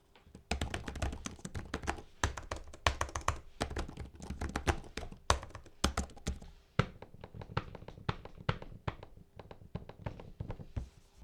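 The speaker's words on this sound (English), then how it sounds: "The typing feels good. Full keyboard with even a number pad." Rapid, uneven tapping of keys on a laptop's full-size keyboard with a number pad, close and crisp, steady clatter with short pauses and no talking.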